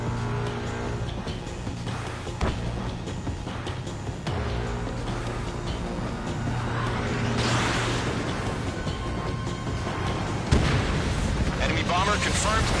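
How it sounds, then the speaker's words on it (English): A missile launches in a jet combat video game, a rushing roar swelling over rumbling explosions and engine drone, with a radio voice talking over the action. "H2, missile launch."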